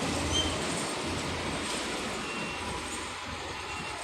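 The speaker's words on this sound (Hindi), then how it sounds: "ये सेक्टर 16 का मेट्रो स्टेशन है।" A metro train at Sector 16 metro station rumbles steadily and fairly loudly through the whole stretch, a broad continuous roar of rail noise with no voices.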